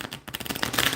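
Tarot cards are shuffled by hand in a quick burst of papery riffling and flicking, close and fairly soft.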